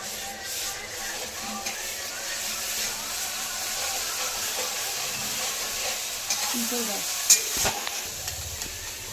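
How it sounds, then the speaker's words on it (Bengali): Ginger and garlic frying with spices in a pan, making a steady close sizzle and hiss with scraping stirs and a few clatters toward the end. "এই যে আদা আর রসুন দিয়ে দিলাম"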